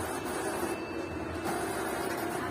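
An Epson L1455 A3 inkjet printer running a copy job while being repaired for a paper jam, giving a steady mechanical whir and hum that holds close and even throughout, with no voices.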